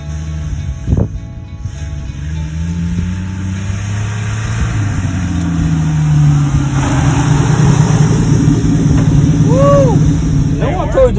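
A 1972 Ford F100 pickup with a 240 cubic-inch 3.9-liter inline-six runs with a steady mid-pitched engine drone that grows slightly louder over time, while people talk over it.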